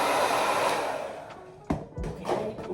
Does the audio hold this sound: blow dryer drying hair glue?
yes